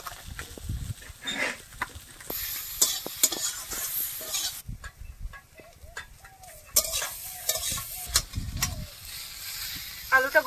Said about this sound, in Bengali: তেলের মধ্যে আলুটা দিয়ে দিচ্ছি, এর মধ্যে শুধু লবণ দেব।